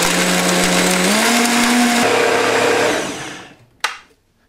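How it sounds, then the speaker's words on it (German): A blender purees an avocado dip with vinegar, lemon and maple syrup, its motor whining loud and close with a rising pitch, then spinning down to a stop, followed by a single sharp clack. "Und das Ganze wird jetzt püriert"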